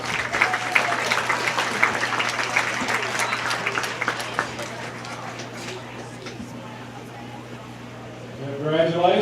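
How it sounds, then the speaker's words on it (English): Crowd at a county fair market goat show applauding a class of young exhibitors with their goats: steady clapping from many hands that gradually thins and fades, over a constant low hum, with a voice starting at the end. "they all deserve a nice round of applause"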